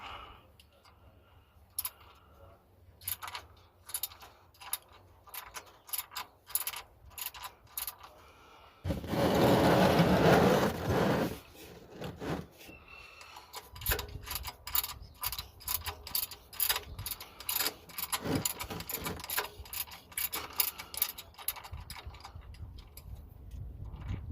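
Ratchet wrench with a 14mm socket working the oil drain bolt on a 2010 Toyota Prius, rapid quiet clicking in bursts with a short louder rushing noise in the middle, close and unaccompanied by talk.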